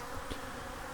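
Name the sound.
honey bees buzzing at cold sugar syrup feeder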